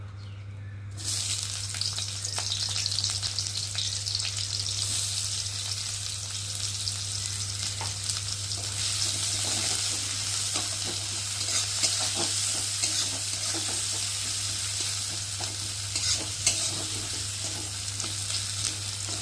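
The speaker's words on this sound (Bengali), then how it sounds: "পেঁয়াজটা ভাজা ভাজা হচ্ছে" Steady sizzling of onions frying in hot oil, with occasional scraping and stirring sounds over a constant low hum.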